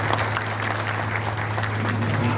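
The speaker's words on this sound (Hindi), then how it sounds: "एक भरपूर पुरजोर तालियां होनी चाहिए।" Moderate crowd applause at an awareness programme for real estate agents, a continuous wash of clapping over a steady low hum, fairly even throughout.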